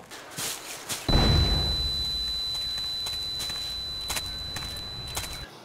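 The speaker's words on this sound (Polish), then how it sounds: "Ale eksplozja!" A C4 charge blows up in the video game Vietcong Purple Haze: a sudden low boom that rolls into a long, steady rumble lasting several seconds, loud and up front, with sharp crackles scattered through the tail.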